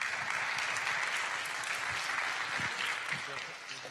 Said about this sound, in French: qu'on applaudit aussi.